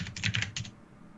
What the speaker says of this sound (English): Sorry, my keyboard is pretty loud.